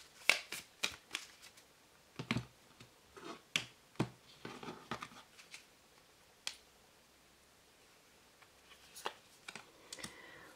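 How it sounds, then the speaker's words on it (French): Cards from a Lenormand deck shuffled and laid out for a three-card reading: quiet, irregular clicks, flicks and soft slaps in short bursts, with a long pause midway. No one speaks. "On va faire donc un tirage en trois cartes"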